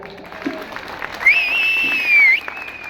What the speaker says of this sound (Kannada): ಎಲ್ಲ ಕಲಾವಿದರುಗಳಿಗೆ ಎಲ್ಲ ಮ್ಯೂಸಿಷಿಯನ್ಸ್ಗೆ ಒಂದು ಜೋರಾದ ಚಪ್ಪಾಳೆ